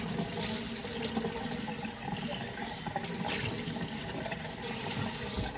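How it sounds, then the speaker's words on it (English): Water from a tap runs steadily as a cup is rinsed. The splashing and gushing is close, continuous and fairly loud, with small surges in the flow. "Rinse your cup."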